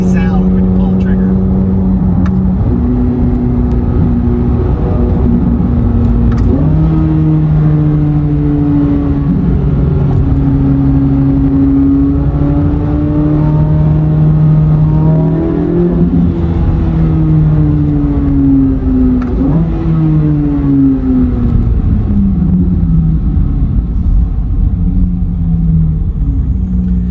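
Loud, close cabin sound of a 2023 Corvette C8 Z06 with the 3LZ package accelerating hard, its engine note climbing through the revs with shifts between gears across a long, continuous pull, with a voice talking over it.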